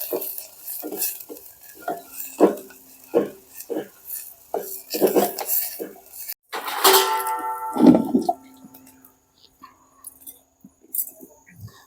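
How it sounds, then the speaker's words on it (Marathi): A spoon scrapes and clinks repeatedly against a metal pot, mixing masala in an uneven stirring rhythm on a clay wood-fired stove, with a brief sizzle partway through. "सर्व आता हलवून घेऊया आपण एकजीव करून घेऊ"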